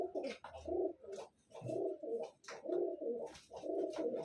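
Pigeons coo repeatedly at a pigeon seller's stall in Bangalore, a close run of soft throaty bursts with short gaps between them and no talk over them.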